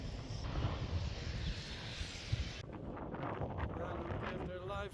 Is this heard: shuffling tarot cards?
no